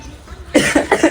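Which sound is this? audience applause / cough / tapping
cough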